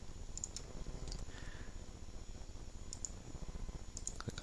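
A computer mouse clicks a few times during 3ds Max modelling work, sharp quiet taps spread across a low, steady room hiss.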